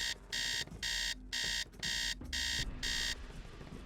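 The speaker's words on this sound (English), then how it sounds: "let's set my alarm for... I think it's 8 AM right now" An alarm clock rings inside the Nancy Drew game The Scarlet Hand, sounding as a loud electronic beeping in six steady bursts with short gaps, followed by quieter background sound with no talking.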